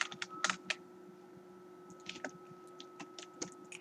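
Computer keyboard typing in quick, light, irregular clicks and short bursts of keystrokes, faint and close, over a low steady electrical hum, with no talking.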